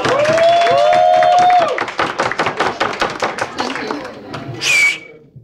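Audience applause for a singer performing a song at a live show, dense clapping building through the middle, with sung and spoken voices over it at the start and a whoop near the end.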